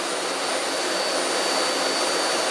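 Steady, loud broadband roar of a Jet Provost JP5 jet trainer's engine, heard from close by, likely from inside the cockpit in flight, with a constant whine running through it and no speech.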